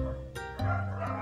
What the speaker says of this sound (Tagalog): Pasensya na sa madaming aso.